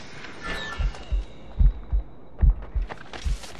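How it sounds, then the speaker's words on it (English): In the video game Assassin's Creed Rogue, a poisoned character's heartbeat throbs as a series of deep, evenly spaced thumps, about eight beats, with faint game ambience and a high tone fading behind them. "Moving keeps my heart beating."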